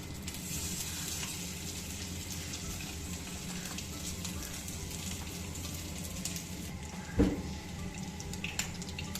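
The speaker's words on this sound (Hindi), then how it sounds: "हल्की आंच पे दोनों साइडों से अच्छी तरह फ्राई करेंगे।" Shami kababs shallow frying in oil in a pan over low heat give a steady, even sizzle throughout, with one brief louder clatter near the end and no talking.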